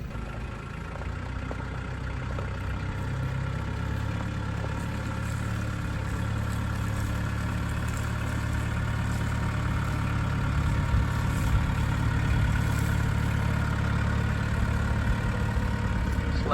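A tractor engine runs at a steady low idle with a slight rise partway through, carrying a tripod deer stand in its front bucket outdoors. The rumble is continuous and close, with no voices.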